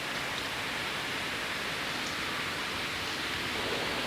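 Rain falling on a grey morning at a 1986 M74 motorway opening ceremony near Lesmahagow, a dense, even hiss of steady rainfall that stays constant and fairly loud with no voices.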